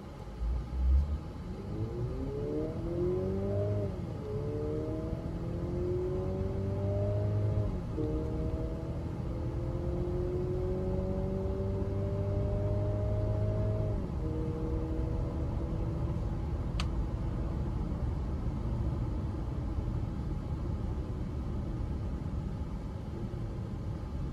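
A Mercedes GLC 200 accelerating hard from standstill in sport mode, engine note climbing in repeated rising sweeps broken by brief gear-change dips, with steady road rumble underneath throughout and no talk.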